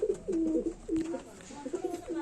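Golden pigeons coo close by in soft, repeated throaty phrases, a few rounded calls in quick succession at moderate volume.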